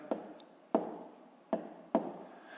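Chalk or a marker writes numbers on a board for a long division problem, four short distinct taps and strokes at an uneven pace in a quiet room.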